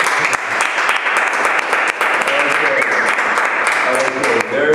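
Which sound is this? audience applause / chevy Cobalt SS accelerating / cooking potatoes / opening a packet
audience applause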